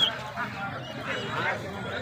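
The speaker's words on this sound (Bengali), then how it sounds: "দেশি হাঁসের বাচ্চা" Soft quacking and peeping of domestic ducklings, several overlapping calls, with murmured talk and market-like background noise throughout at a pigeon market.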